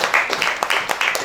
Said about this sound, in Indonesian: Wow, beri tepuk tangan untuk kita semua.